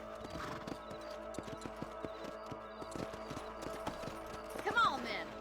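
Horse hooves clop in steady rhythm in Red Dead Redemption, a western video game, ending in a loud neigh near the close, with someone speaking quietly underneath.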